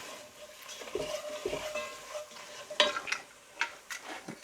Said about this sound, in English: Just going to give that a bit of a stir first.